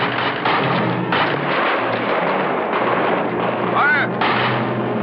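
Rifle volley in an old island adventure film: repeated heavy cracks and thuds of gunfire over a dense, noisy battle bed, with shouting voices mixed in throughout.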